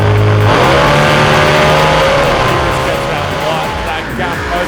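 An ANDRA drag racing car accelerates hard down the track, a loud, rising engine roar that fills the whole stretch with a commentator talking over it.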